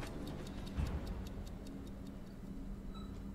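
Ticking clock from the video game Hulk: Ultimate Destruction, a steady, evenly spaced series of crisp ticks running throughout over a low rumbling background.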